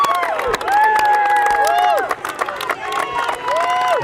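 A boys' high school baseball playoff crowd cheers loudly and continuously, with shouts, whistles, clapping and children yelling, close and dense, while a commentator talks over it.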